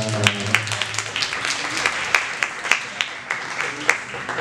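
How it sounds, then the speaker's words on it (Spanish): Scattered audience clapping at a kiki ball performance picnic, with individual claps popping out in an uneven rhythm while voices and background sound carry underneath. "Aplausos."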